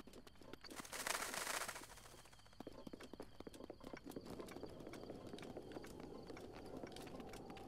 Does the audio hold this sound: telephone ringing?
no